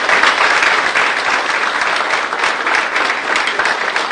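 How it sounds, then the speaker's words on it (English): A large audience at a science and technology event applauds for NIHERST, a continuous, full round of clapping that runs steadily throughout at close range. "I'd like you to give NIHUS a tremendous round of applause"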